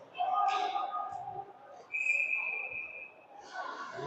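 A referee's whistle at a high school varsity ice hockey game gives one steady, moderately loud blast of about a second amid arena murmur.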